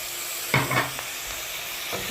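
Chopped tomatoes tipped into a hot frying pan and stirred, giving two short bursts of sizzling and scraping followed by a low steady hiss, with a faint stir near the end.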